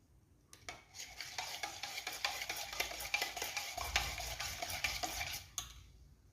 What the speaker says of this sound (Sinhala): දැන් අපි කහට සොල්පයක් දමා කිරිපිටි සහ සීනි හොඳට මිශ්‍ර කරගමු.